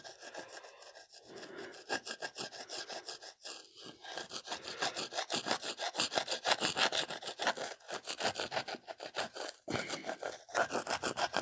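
Tool scraping carbon deposits from the crank seal bore of a Briggs & Stratton opposed-twin engine, a steady close rasping rub repeated in quick strokes for several seconds with no talk.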